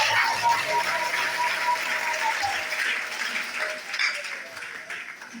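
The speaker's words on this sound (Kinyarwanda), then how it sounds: "Komera Imana amashyi menshi cyane." A church congregation in Rwanda claps loudly in praise, a sustained dense round of applause that gradually tapers off, with faint voices mixed in.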